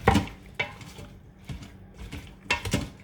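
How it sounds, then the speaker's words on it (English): A spoon scrapes and clinks against the inside of a Quick Cooker pot while stirring Tuscan chicken with seasoning, giving several sharp taps and scrapes in an irregular rhythm, close and fairly clear with no talking. "I'm going to give it a quick stir, just so all the seasoning gets all around real quick"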